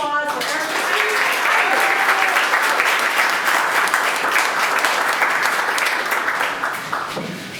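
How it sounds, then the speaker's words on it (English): Sustained applause from a theatre audience at a new-works festival evening, loud and dense throughout, fading slightly near the end before a voice begins to speak. "so big round of applause for Eric."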